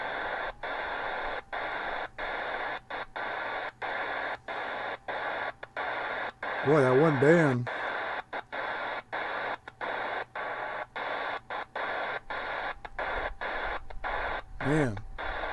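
Heavy static hiss fills a Tecsun PL-680 or Sangean ATS-909x shortwave radio, chopped by rapid regular pulses, with a short warbling tone twice and someone speaking briefly over it.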